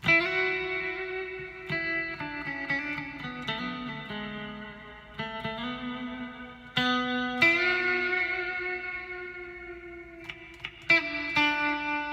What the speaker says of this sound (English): it's there, but the reverb is so loud.